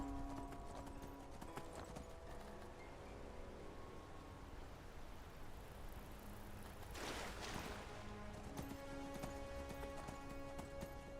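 A horse ridden across Skyrim terrain clops along in a steady, continuous hoofbeat rhythm, close and clear over a faint background hiss and game ambience, with a brief louder burst midway.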